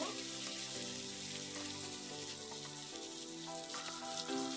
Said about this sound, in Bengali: টমেটোটা একটু হালকা ভেজে নেব